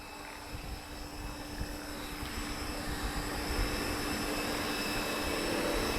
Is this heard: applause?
no